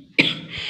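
A single sharp cough from a feverish person with a swollen, very sore throat, close and abrupt at first, then trailing off into a softer breathy tail.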